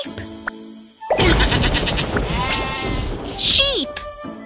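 Cartoon sheep bleating in a children's animal park song, a loud wavering bleat and bright cries over cheerful backing music, with voices talking.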